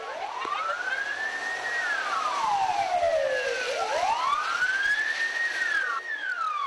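Wailing fire, rescue, ambulance and police sirens sweep up and down in long overlapping arcs, loud and continuous, arriving at a shopping centre during a fire drill.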